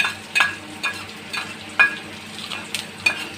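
Potatoes and green chillies fry in oil in a wok, a steady low sizzle broken by a regular series of sharp scraping stirs about every half second, close and fairly loud, with no talking.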